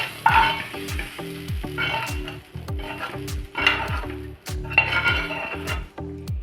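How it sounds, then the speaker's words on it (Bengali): Onion and okra frying in a hot pan, with a strong sizzle and a regular rhythm of stirring scrapes and spoon knocks against the pan, close and loud. "পেঁয়াজটাও কিন্তু আমার সুন্দর ভাজা হয়ে গেছে"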